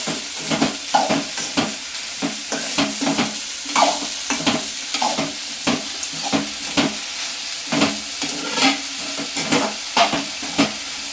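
Onions and tomatoes sauté with rock salt in a pan for an onion chutney. Rhythmic stirring scrapes repeat roughly every second over a soft background sizzle, close and fairly loud, with no talking.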